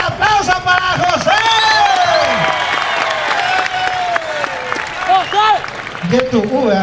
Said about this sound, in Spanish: Fuerte el aplauso para José.